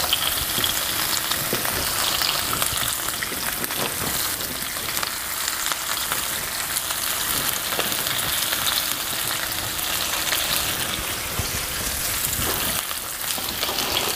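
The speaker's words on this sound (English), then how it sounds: "Give that a bit of a stir, sizzle away." Steady, dense sizzling of sliced okra frying in a hot pan, crackling continuously with occasional louder pops, close and without any talk.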